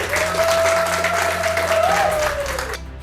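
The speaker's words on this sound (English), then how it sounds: "I think that deserves a round of applause." An audience at a netball launch event breaks into a round of applause, steady dense clapping that fills the room for about three seconds and then cuts off abruptly, with a faint tone ringing underneath.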